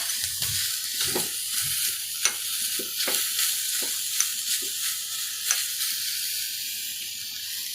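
Fish curry masala fries in a pan with a steady bright sizzle and hiss, broken by occasional soft scrapes of a stirring spoon. The sound is close and continuous.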